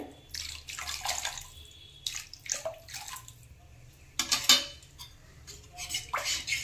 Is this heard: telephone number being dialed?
no